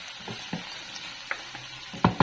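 Tomatoes fry in a pan with a soft, steady sizzle, broken by a few sharp scraping stirs that grow louder near the end, close up and with no voices.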